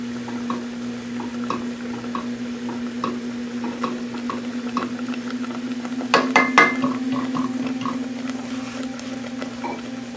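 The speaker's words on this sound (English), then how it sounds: "need to stir the grits again" A spoon stirs a pot of simmering grits in a home kitchen during shrimp and grits cooking, with soft repeated scrapes and taps over a steady hum and a louder clatter of stirs midway; no one speaks.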